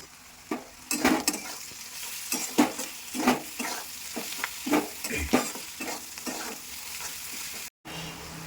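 Vegetables for chowmein fry in a pan with a steady sizzle, while a spatula scrapes and stirs in a regular series of close, fairly loud strokes, with no talking.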